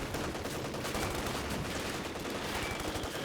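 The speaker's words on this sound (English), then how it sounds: "My mortar is firing away though." Gunfire and explosions from a mortar firing in the World War II strategy game Company of Heroes 2 roll on continuously, a dense, loud, crackling barrage with no clear pauses.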